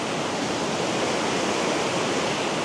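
A waterfall about 22 meters high roars in a steady, dense rush of falling water, loud and unbroken throughout with no voices.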